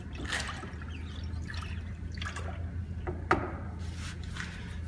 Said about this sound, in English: I always keep my product stirred nicely throughout